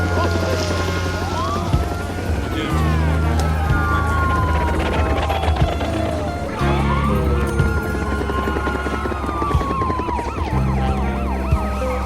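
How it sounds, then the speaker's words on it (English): Screeching police sirens wail and sweep up and down repeatedly, layered over a steady, thumping hip-hop beat with low bass. "all of a sudden I hear sirens, screeching sirens"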